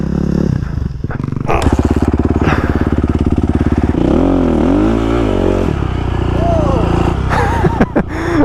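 A supermoto motorcycle engine revs loud and close throughout, with rising and falling whines as throttle changes, under wind buffeting and rattling on a dirt ride.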